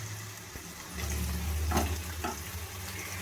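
Chicken pieces frying with reddened onions in a pan: a low continuous sizzle that swells as the meat goes in, with a couple of sharp clatters of utensil against pan, no talk.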